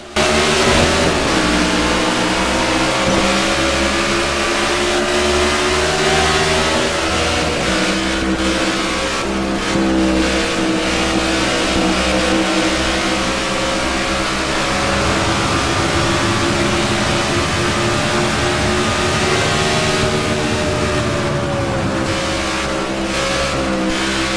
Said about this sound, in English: the green flag is out and we are underway here at Kentucky Speedway